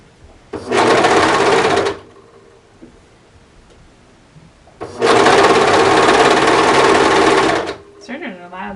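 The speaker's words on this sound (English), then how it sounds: "Sergers are loud though. Woo, sergers are loud." A serger, an overlock sewing machine, runs loud and close in two bursts, a short one then a longer one, with quiet pauses between them and faint handling noise afterward.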